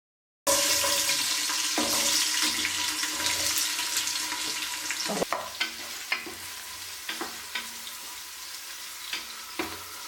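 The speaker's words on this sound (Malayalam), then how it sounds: "അതിലേക്ക് നമുക്ക് കുറച്ച് സവാള ഇട്ട് വഴറ്റിയെടുക്കാം." Onions sauté in sunflower oil inside a pressure cooker, a soft steady sizzle broken by stirring scrapes and clinks against the pot, close up, with no talking.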